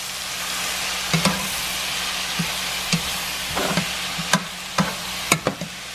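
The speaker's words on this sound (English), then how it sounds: "I'm gonna go ahead and stir this around in the pot and mix all my spices up with my vegetables" Spices and vegetables for sweet potato chili are stirred in a hot pot over a steady, loud sizzle, with repeated spoon knocks and scrapes against the pot at irregular intervals.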